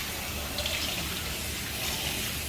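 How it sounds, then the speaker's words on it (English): Warm water runs steadily from a salon faucet while conditioner is rinsed out of hair, a constant soft hiss and splash heard close, with no talking. "Warm water to help rinse the products out."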